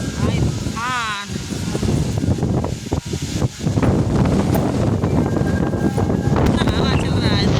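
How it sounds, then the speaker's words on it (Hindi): Strong wind buffets a phone microphone outdoors in a village during the hot summer season, a loud continuous rumbling roar while a person talks through it. "हवा चल रहा है, लग रहा है कि मोबाइल भी आप लोग से गिरा जाएगा"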